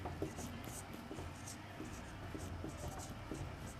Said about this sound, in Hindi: यहाँ पर लिखते हैं, संगम